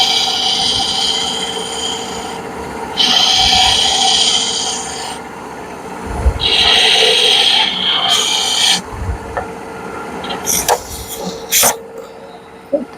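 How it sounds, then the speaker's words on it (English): Shear scraper cutting wood out and cleaning up an edge, rasping strokes in several long bursts, close and loud, followed by sharper scattered scrapes and knocks. "I'm using a shear scrape to cut that out of there."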